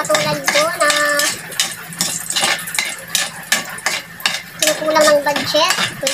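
Garlic, onion and tomato being stirred in a pan while sautéing, with scraping and clinking of a utensil against the pan and a soft sizzle underneath, over moderately loud kitchen noise.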